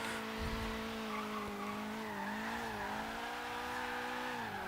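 Tires of a Nissan 240SX skid and squeal in a long, steady, slightly wavering screech while drifting in Forza Horizon 3, with an engine note beneath and no talking.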